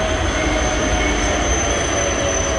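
A Berlin tram on line 62 passes through Köpenick, a loud, close, continuous rolling rumble with thin high wheel squeal running throughout, no voices.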